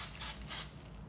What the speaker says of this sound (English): we're gonna go ahead and spray it real quick. A little bit of butter.